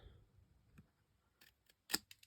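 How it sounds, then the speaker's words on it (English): Scissors snip off the corners of a paper card-craft piece with a few quiet, separate cuts and one sharper, brighter snip near the end. "now I'm going to snip off the corners"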